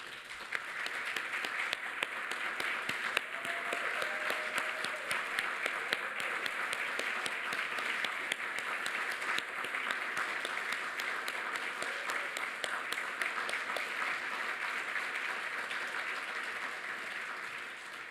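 Sustained applause from an audience at an evening employee awards ceremony, many hands clapping steadily and evenly for a long stretch, a little distant in a large hall.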